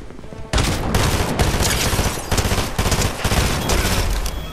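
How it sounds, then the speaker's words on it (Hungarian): SMG fire in Fortnite: a sustained, loud, rapid volley of gunshots starting abruptly after a brief quiet moment and continuing without pause, close and dominant with no talk. "SMG pisztoly."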